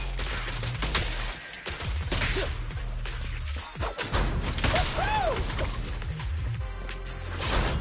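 Gunfire from the video game Zenless Zone Zero, with dense bursts of shots and crashing impacts mixed with game effects and music, loud and busy throughout the clip.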